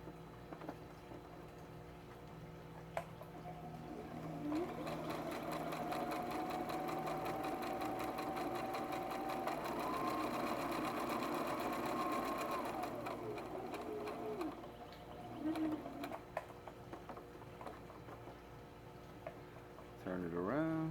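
A sewing machine stitches across the fabric of a drawstring pouch in one steady whirring run of about ten seconds, close and clear, with quiet pauses and short bursts before and after.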